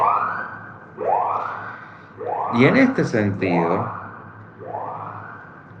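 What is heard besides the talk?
passing siren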